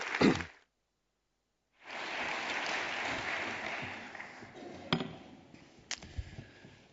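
A conference audience at a policy and planning session gives a speaker a welcoming round of applause, a steady, fairly soft wash of clapping after a short silence, thinning out with a few isolated claps at the end.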